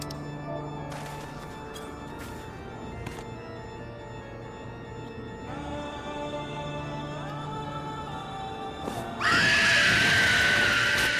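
Garuda, a boss in the video game Final Fantasy XIV, lets out a loud, shrill scream near the end, rising abruptly over a steady bed of game music and effects.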